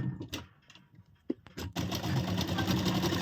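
Scattered knocks and handling clatter come first, then a domestic sewing machine runs steadily and loudly, stitching around a blouse sleeve.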